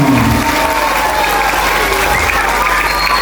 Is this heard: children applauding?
yes